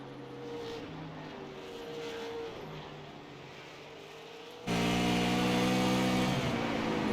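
Race cars circling Thompson Speedway roar past in a steady engine drone with pitch shifts, jumping suddenly louder partway through as the field passes close.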